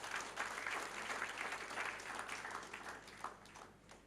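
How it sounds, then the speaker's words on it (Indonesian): Applause from a church congregation during a sermon, a dense, steady wash of many hands clapping throughout that gradually thins toward the end. "Tepuk tangan untuk Tuhan kita."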